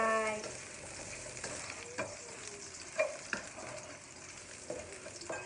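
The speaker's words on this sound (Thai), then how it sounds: "น้ำมันร้อนแล้วนะคะ ใส่กระเทียมลงไปค่ะ กระเทียมที่เราทุบเรียบร้อยแล้วใส่ลงไป" Crushed garlic frying in hot oil, a soft continuous sizzle with a few light clinks and stirring scrapes, fairly faint and with no talk.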